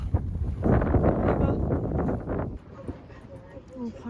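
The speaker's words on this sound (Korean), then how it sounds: "대박. 바람 너무 무서워." Strong wind at a campsite during a snowy gale buffets the microphone with loud, rumbling gusts that ease after a couple of seconds into a lighter rustle.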